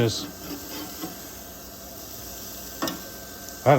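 Thick half-pound A-1 steak sauce burgers flipped on a Masterbuilt portable gravity charcoal grill, a steady soft sizzle with a few scraping thuds as the patties turn, and a louder clatter near the end.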